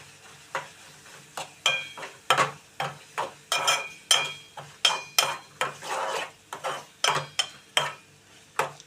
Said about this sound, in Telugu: అడుగంటకుండా తిప్పుతూ ఉండాలి.